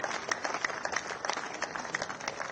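Scattered clapping from an audience at a clean-fuel pipe gas scheme launch event in Delhi, a steady patter of many hands at moderate distance, no voices over it.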